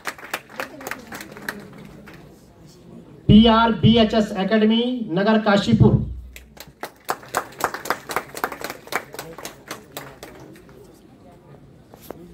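An audience claps steadily in a rapid, crisp rhythm at a state school cleanliness award ceremony, while an announcer calls out names over a loudspeaker in the middle.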